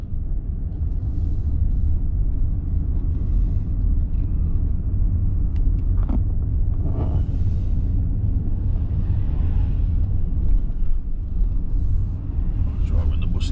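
Car driving through the streets of Bergen, Norway, a steady low road rumble and engine drone from inside the vehicle, with faint passing traffic noises throughout.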